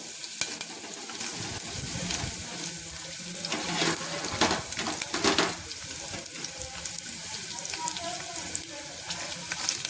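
Green chillies sizzle in hot oil with mustard seeds and cumin, a continuous hissing fry with bursts of louder crackle and stirring, close up.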